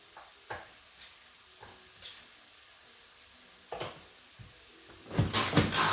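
Chopped onions tumble into a skillet for sloppy joes and get stirred: a few sparse clicks and scrapes at first, then a louder burst of sizzling and scraping near the end, heard close up with no talking.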